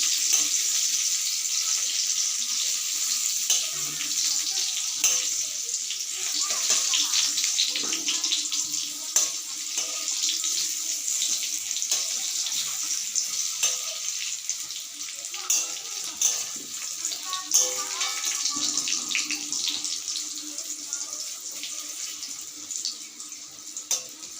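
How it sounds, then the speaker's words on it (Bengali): Taro slices fry in hot oil in a pan, giving a steady, close sizzling hiss with scattered small crackles and pops that runs throughout. "তার মতো অন্য পিঠটাও একটু লাল লাল করে ভাজা হবে"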